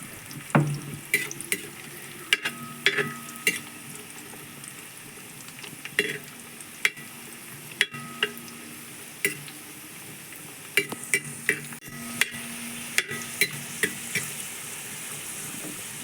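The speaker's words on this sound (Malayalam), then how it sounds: "കശുവണ്ടി വറുത്ത് വരുമ്പോഴത്തേക്കും അതിൻ്റെ കൂടെ തന്നെ നമ്മുടെ മുന്തിരി കൂടി നമുക്ക് ഇട്ട് കൊടുക്കാം" Cashews and raisins frying together in a pan for a cassava payasam, a soft steady sizzle under repeated sharp scraping and stirring clicks, close and moderately loud with no talk.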